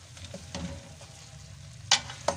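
Cauliflower and peas for a restaurant-style mixed vegetable sabzi fry in a pan, a quiet low sizzle broken by a few sharp clinks of a spoon against the pan.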